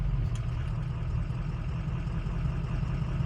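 Freshly rebuilt truck engine with a big cam and aggressive tune idling in gear, a steady deep rumble with a slight lope, close and loud, no talking.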